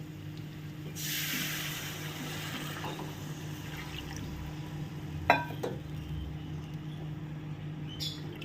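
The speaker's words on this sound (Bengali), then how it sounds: "দিয়ে দিচ্ছি এর মধ্যে উষ্ণ গরম জল" Warm water poured into frying spice masala in a pan for fish curry, a sudden hissing sizzle that flares up at once and then settles into a low, steady simmering hiss with faint clinks.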